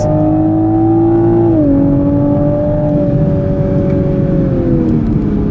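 A 2020 Toyota Supra with its first modification pulls hard in a first-gear roll, its loud, steady engine drone close and dominant, the pitch stepping down twice, with no voices.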